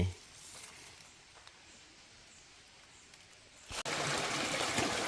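Small waterfall stream in a Kanchanaburi forest: a steady soft hiss of flowing water that swells abruptly into a louder, closer rush near the end.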